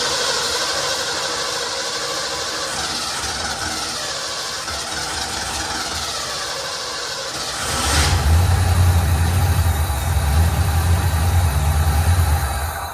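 An old Ford engine cranks over and catches, then settles into a loud, steady low running rumble with a constant drone, in a garage workshop.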